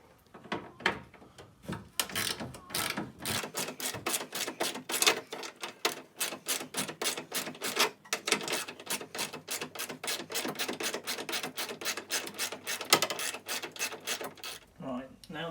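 On a Porsche 996/986 headlight mounting bracket, a socket ratchet turns a bolt with a long run of fast, dry clicks, close and steady, pausing briefly near the end.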